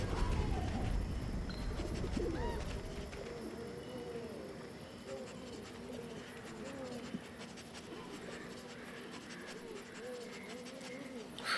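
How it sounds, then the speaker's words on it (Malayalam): In the video game Endling: Extinction is Forever, a pigeon coos in repeated soft, low, rolling calls. A faint rustle sits underneath, and no one speaks. "ഓ, പ്രാവ് അവിടെ ഇരിക്കുന്നു."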